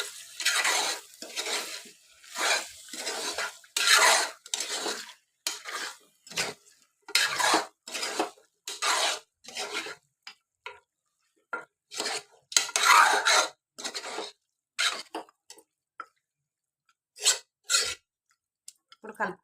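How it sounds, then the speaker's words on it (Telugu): Mutton cooking in oil is stirred in a pan with rapid, rhythmic scraping strokes and a faint sizzle. The strokes come close and loud in regular bursts with brief gaps between them. "ఇప్పుడు ఒకసారి కలుపుకుందాము."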